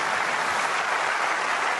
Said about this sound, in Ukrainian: Приємно, що оплески на трибунах є